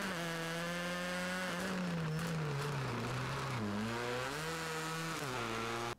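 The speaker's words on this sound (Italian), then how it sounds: "ogni singola auto ha il suo carattere audio che è coinvolgente" Race car engine in the Project Cars 2 racing game: a loud, continuous high-revving drone whose pitch rises and drops with gear changes, heard alone and close.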